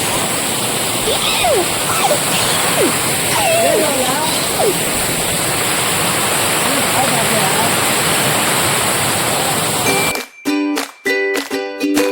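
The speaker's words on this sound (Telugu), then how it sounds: "దామన్చెల్ల వాటర్ ఫాల్స్." Rushing water at the Damancherla waterfalls, a steady broad roar with people talking faintly underneath, cut off near the end by a brief burst of choppy louder sounds.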